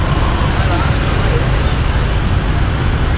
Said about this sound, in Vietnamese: Kẹt xe ngăn ngẩm ghê luôn quý vị ha.